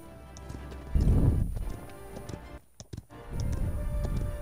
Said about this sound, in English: Get on that horse.